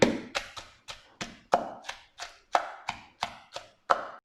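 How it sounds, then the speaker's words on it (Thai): Shallots and garlic pounded with a pestle in a mortar for a Thai straw-mushroom chili dip, a steady run of about twelve sharp, close thuds spaced roughly a third of a second apart, with no talking. "หอมแล้วก็กระเทียมนะคะ ลงไปโขลกเลย"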